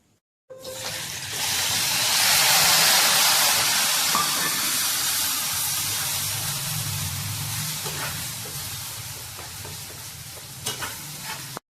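Onion paste sizzles and fries steadily in a hot pan with salt, a continuous close hiss of oil with stirring scrapes through it, no talking.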